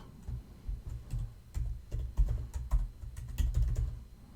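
Password being typed on a computer keyboard during an Ubuntu server setup, a steady run of close, crisp key clicks in uneven bursts with no talk.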